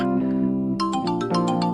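An electronic phone ringtone plays a bright, repeating melodic tune, loud and close, with no voices over it.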